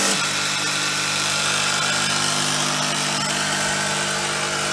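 A new Interpump TX15150 415-volt pressure washer, rated 150 bar at 15 litres, runs with a steady, loud motor and pump drone plus broadband hiss, holding even throughout with no talk.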